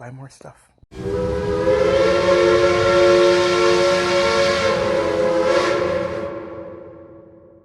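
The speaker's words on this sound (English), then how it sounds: "You know what the sound of the train horn means?" A long, loud train horn blares as a steady sustained chord for about five seconds after a brief rustle, then cuts off into silence.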